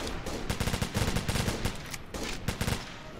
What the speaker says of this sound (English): Someone is getting shot.